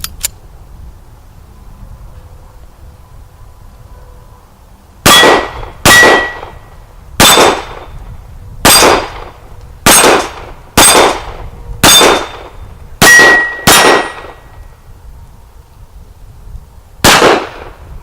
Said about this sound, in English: So the CZ75 SP-01, going hot on the range.